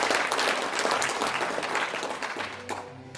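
Audience applause at a rally held in a National Assembly members' office building conference hall, sustained and fairly dense for about three seconds before tapering slightly, with no speech over it.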